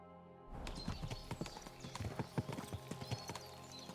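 Horse hooves clip-clop at a walking pace in Kingdom Come Deliverance 2, crisp irregular hoof strikes starting after a brief pause and continuing close and clear.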